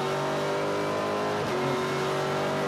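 V8 SuperTourer race cars racing at Pukekohe, a loud, continuous engine roar with a pitch shift midway as a car passes close by.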